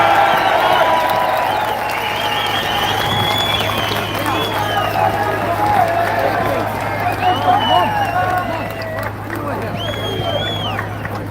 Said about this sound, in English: please make some noise and a round of applause for Councillor Malachy Stevenson